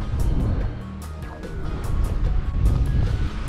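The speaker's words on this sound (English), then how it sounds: "it's a little bit windy up here." Strong wind buffets the microphone in low, rumbling gusts that swell and ease, with a faint airy rush over the top, high up on a mountain bike trail in Sierra County, California.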